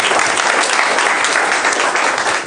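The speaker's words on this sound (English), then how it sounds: "I want for all of you to give a round of applause" Steady, dense applause fills the room from an audience at a conference inspiration session on cyber security and AI, loud and continuous throughout with no clear voices over it.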